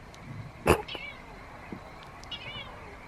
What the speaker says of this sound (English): Can't see anything, but that's our cat.